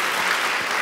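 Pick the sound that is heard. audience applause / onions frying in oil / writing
audience applause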